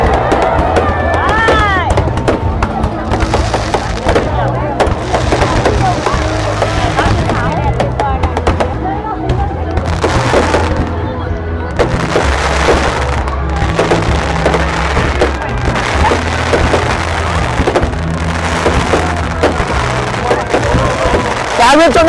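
Fireworks burst repeatedly at the Lim festival in Vietnam in 2024, a dense run of loud cracks, crackles and booms that stretches on and on, with people talking in the crowd between and under the blasts.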